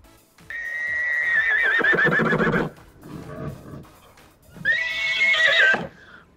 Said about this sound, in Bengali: ঘতে ঘোড়া। ঘোড়াটি দেখো দৌড়ে বেড়ায়।